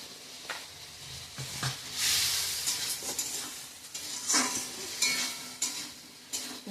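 Ground coriander, cumin and chili powder fry in a pan with a soft sizzle, broken by several scraping stirs of a utensil against the pan, fairly quiet and close.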